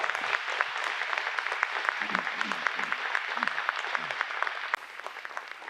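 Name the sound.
congregation applauding in church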